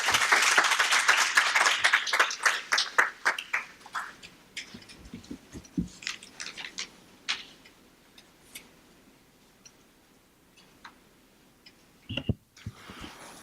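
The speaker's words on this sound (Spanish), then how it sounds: "Quiero que le demos una calurosa bienvenida y aplauso al doctor Marcos Acle Mautones." A lecture audience at a legal profession forum in Puerto Rico bursts into loud, dense applause welcoming a speaker, then thins into scattered individual claps that fade to near quiet, with a few final claps near the end.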